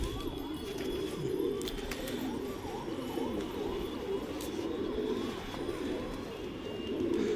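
A flock of kept pigeons coos steadily in a low, continuous warbling murmur that fills the whole stretch, with faint background noise and no voices.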